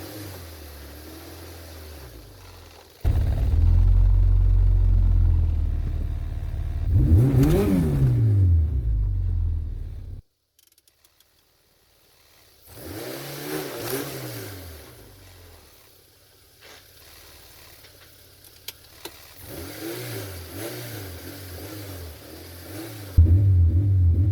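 A 1981 Honda Civic wagon with a K24 engine drives off. The engine swells through revs and gear changes, drops to near quiet and then rumbles back up, heard from inside the car.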